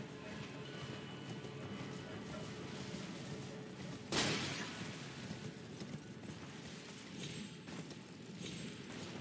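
Horse hooves clip-clop steadily in the fantasy action game Elden Ring, rhythmic and moderately close over a busy game soundscape, with a brief crash partway through and a voice briefly audible.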